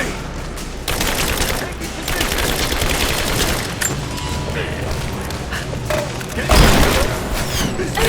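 Sustained automatic gunfire and thudding explosions in the video game Rise of the Tomb Raider, loud and continuous, with a voice shouting over the battle noise.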